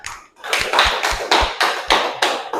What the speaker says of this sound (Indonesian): sekarang kita berikan tepuk tangan untuk kelompok 3